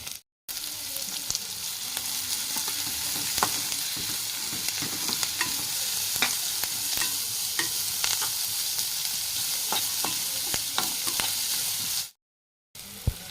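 Chopped onions frying in hot oil while being stirred: a steady close sizzle dotted with frequent small pops and scraping clicks, continuous for about twelve seconds before stopping briefly, with no talk.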